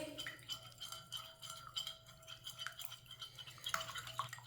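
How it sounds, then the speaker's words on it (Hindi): A raw egg is whisked in a bowl with a utensil, giving a quiet, rapid scraping and clicking rhythm close up, steady for a few seconds. "एक अंडा, अंडे को अच्छी तरह मिक्स कर लेंगे।"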